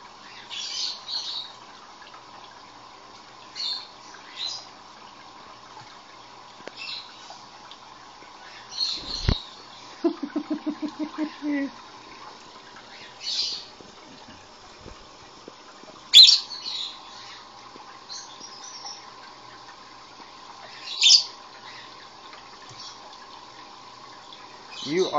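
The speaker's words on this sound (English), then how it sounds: "Are you taking a bath in my dirty dishes?" A pet bird named Hollywood bathing in a sink of dirty dishes, with scattered squawks and chirps, small splashes and a quick burst of fluttering in water over a faint steady hum.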